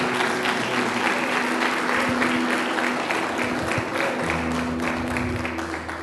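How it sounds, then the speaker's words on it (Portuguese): A whole church congregation applauds together, a dense, steady wash of clapping that stays loud and even for about six seconds. "A igreja toda, uma salva de palmas."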